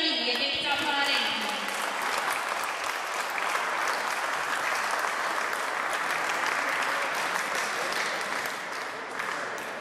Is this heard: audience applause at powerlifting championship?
yes